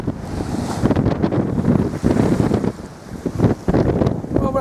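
Strong wind buffets the microphone aboard a sailboat out on rough water, with waves and surf rushing steadily and loudly throughout and brief gusty surges.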